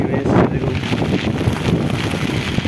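A rain and wind storm on an open rooftop roars as a steady broadband wash, gusting close against the microphone, strong enough that an umbrella cannot be held.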